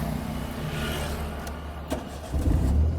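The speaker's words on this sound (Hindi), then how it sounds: "क्लच दबा अब पहले क्लच दबाते हैं, फिर स्टार्ट" A manual car's engine turns over and catches after the clutch is pressed during a driving lesson, a brief cranking burst followed by a low idle rumble that swells near the end.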